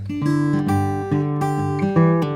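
An acoustic guitar plays a tune in a fingerpicking style, with a steady alternating bass under plucked melody notes, close and clear.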